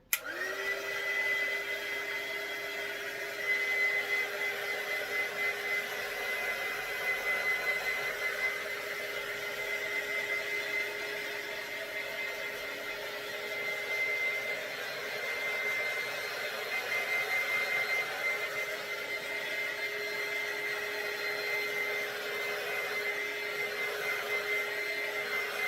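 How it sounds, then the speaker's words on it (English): A craft heat tool blows continuously with a steady, high whining hum that holds at a constant level nearby for the whole stretch, with no talking. "Okay, so I'm going to use that heat tool, and we'll probably do one more layer on this one."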